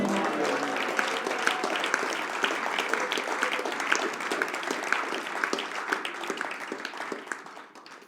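A church congregation applauding and cheering during a French-language service, sustained loud clapping with scattered shouts that slowly fades toward the end.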